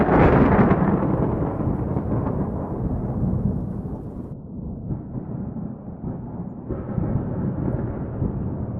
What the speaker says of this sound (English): It starts on a stormy night one Wednesday